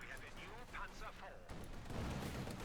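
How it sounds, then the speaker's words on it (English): A field gun barrage in the WWII strategy game Company of Heroes 2, with a commentator voice early on before a deep, rumbling boom swells and rolls on through the rest of the moment. "Field gun opening up there"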